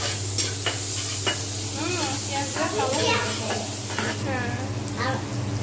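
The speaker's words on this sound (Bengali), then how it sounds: "আর এখন এখানে আমি দিয়ে দেবো পেঁয়াজ কুচি, এই তেলাতে দিয়ে দেবো।" Chopped onion dropped into hot oil sizzles and crackles steadily, with occasional stirring scrapes and a low background hum, while a voice talks intermittently over the frying.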